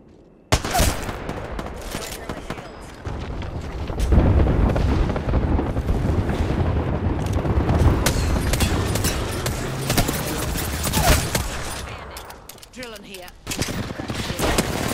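Dense gunfire in the Apex Legends video game sustains loud overlapping bursts and rattling automatic shots for most of the stretch, with a brief quieter dip near the end before firing resumes.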